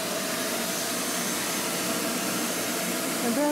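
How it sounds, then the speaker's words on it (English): A shop vac runs steadily and loud nearby, a constant broadband whooshing roar with no pauses, heard alone throughout. "First, I'm going to turn on the shop vac."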